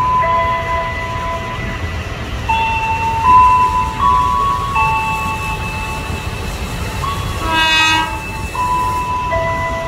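A KRL Commuter Line electric train rumbles through Pasar Minggu station in Jakarta with long sustained horn tones and squealing wheels, steady and fairly close throughout.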